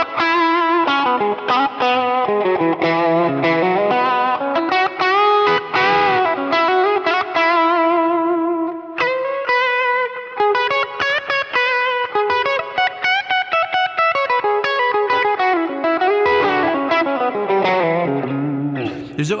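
A Telecaster-style electric guitar, tone knob rolled back and driven with gain, plays a continuous run of distorted, effects-laden notes and chords, loud and close with no talking.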